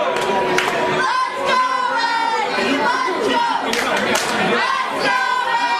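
A live wrestling crowd roars and cheers for Eddie Taurus at a UCS Wrestling show, a dense, steady wall of shouting and chatter with a few thuds, while voices talk over it.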